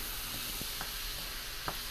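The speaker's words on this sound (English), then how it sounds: "You just cook this down in the butter" Vegetables cooking down in butter in a pan beside scallops and corn hash, a faint steady sizzle with a couple of soft stirring clicks, no voices.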